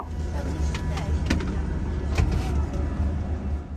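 Road traffic on the highway to Tulum as an ADO bus arrives, with a steady engine rumble, tyre noise and a few brief knocks, under faint talk.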